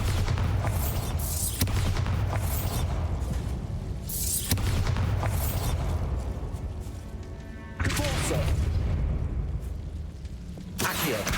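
Bombarda blasting spell in the video game Hogwarts Legacy, a loud rumbling explosion burst that repeats several times, with dense roaring booms separated by short dips.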